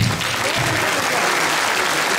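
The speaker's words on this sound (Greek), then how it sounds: "θέλουμε ένα μεγάλο χειροκρότημα για αυτά τα παιδιά" Dense, steady applause from an audience at a school celebration for the children fills the whole moment, loud and close.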